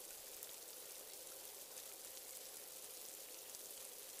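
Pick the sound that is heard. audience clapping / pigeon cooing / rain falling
rain falling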